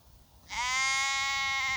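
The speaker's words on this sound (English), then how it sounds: "There's a sheep there." Sheep outside Treak Cliff Cavern, a Peak District show cave in Derbyshire, lets out one loud, close, sustained bleat lasting over a second, rich and quavering, after a short quiet stretch.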